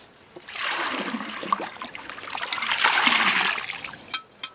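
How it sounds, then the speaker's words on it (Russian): Clean river water scooped up for fish soup on a riverbank, with a rushing, splashing pour that swells twice, then a few sharp drips and splashes at the end. "Набираю чистую воду."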